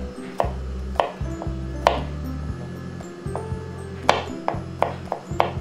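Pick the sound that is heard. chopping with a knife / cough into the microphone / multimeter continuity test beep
chopping with a knife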